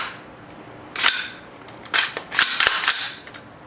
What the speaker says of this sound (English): Go ahead and rack the slide.